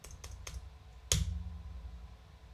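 A few light keystrokes on a computer keyboard followed by one firmer, louder press of the Enter key, then quiet room tone.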